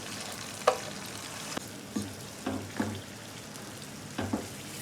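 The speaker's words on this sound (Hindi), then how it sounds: "अच्छा, अब इसको मैं डालकर 5 से 6 मिनट इसकी बुनाई करूँगी।" Kebab keema frying in a pan, a quiet steady sizzle punctuated by several light scrapes and taps of a spoon stirring the mince, close and without speech.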